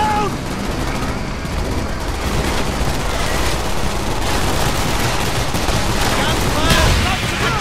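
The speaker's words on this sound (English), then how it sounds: "Gunfire!" Dense, continuous video game gunfire from Call of Duty Black Ops, rapid overlapping shots, loud and close, mixed with shouting voices and battle noise throughout.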